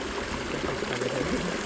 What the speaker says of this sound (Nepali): सानो खोला छ कि कुल हो कि है पानी त यहाँबाट आएको थुप्रै हो